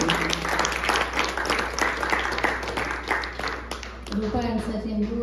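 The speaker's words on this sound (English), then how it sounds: "A big round of applause for the strong supporting artist here, Roopa and Sachin." Audience applause for the violin and supporting accompanists after a vocal concert, a sustained patter of clapping with a speaker's voice over it, and instrument tones entering near the end.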